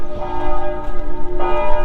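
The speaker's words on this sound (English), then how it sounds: "I think this is the simulation of the night they rang the bells on D-Day night" Church bells in Normandy ringing in a D-Day night simulation, two loud, resonant strikes with long, humming overtones filling the short stretch, with no voices.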